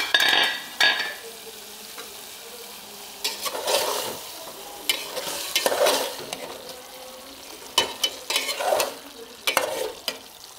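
A spoon stirs chicken liver in a hot pan, giving irregular scraping strokes in bursts over a steady soft sizzle, with quiet gaps between the mixing passes.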